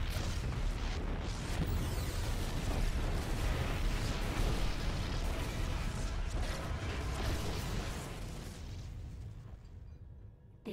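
Rumbling explosions and booming blasts fill a StarCraft II: Heart of the Swarm battle, a dense, loud roar that gradually fades toward the end.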